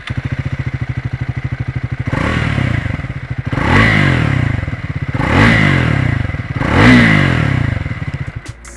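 A Triumph Speed 400 motorcycle idles with a steady loud thumping exhaust, then revs up four times in even swells, each rising and falling back to idle, close by.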